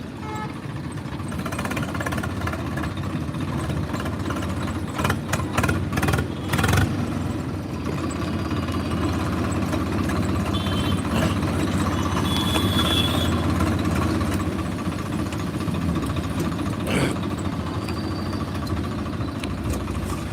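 Several Swaraj tractors, 15 and 17 models, idle together in a steady, loud diesel drone that runs continuously without pause.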